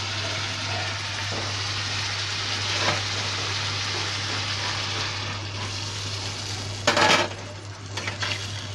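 Rice boils in a pot with a steady, hissing bubble that carries on throughout, joined near the end by a brief clatter of utensils.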